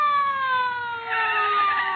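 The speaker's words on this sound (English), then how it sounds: "there's a siren" A loud, close siren wails in a steady, slowly falling tone for two seconds on an old radio comedy, with no voices over it.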